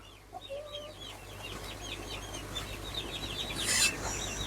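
Silkie and Pekin bantam chickens cluck in a quick, chattering run of soft repeated notes, close by, over a low steady hum with a brief rustle near the end.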